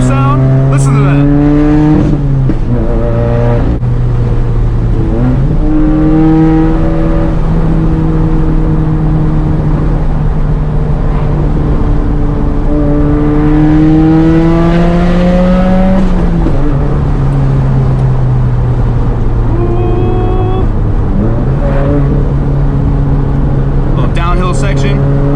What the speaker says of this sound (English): This sound, this Subaru sound, listen to that.